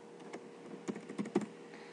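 Rapid keystrokes on a computer keyboard while entering jQuery code, a run of close, crisp clicks with small bursts and short pauses, no voices.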